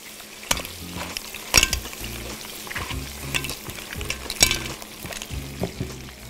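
Seafood soup ingredients, including fish and carrot, are stirred in a frying pan, giving a busy sizzle broken by repeated scraping strokes and a few sharp metallic knocks, close and steady.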